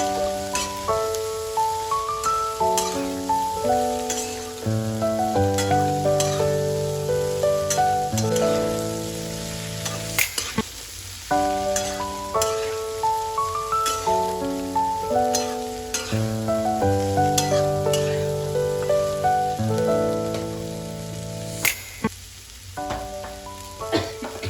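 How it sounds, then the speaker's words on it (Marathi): Chopped kantorli (spiny gourd) is stir-fried in a spiced tempering, a continuous crackling sizzle running beneath a steady melodic background. "हे सर्व कंटोरले मी आता या फोडणीमध्ये टाकून घेतलेले आहे आणि हे सर्व चांगले आता एकजीव होईल असे परतवून घेणार आहे"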